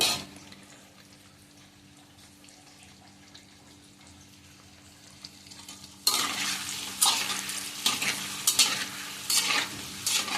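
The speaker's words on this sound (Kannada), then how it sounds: "ಸ್ವಲ್ಪ ಮೊಟ್ಟೆ ಹಾಕೊಂಡಿದ್ದು ಹೆಚ್ಚು ಹಾಕೊಂಡಿಲ್ಲ ಚೆನ್ನಾಗಿ ಫ್ರೈ ಆಗಬೇಕಿದು" Egg masala sizzles in a pan, quiet at first and then loud and busy as stirring begins, with repeated scraping strokes over the frying hiss and no talking.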